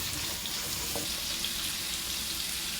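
Ground coconut chammanthi mixture is sautéed in a pan for clam-meat thoran, giving a steady, even sizzling hiss that runs unbroken throughout with no voices.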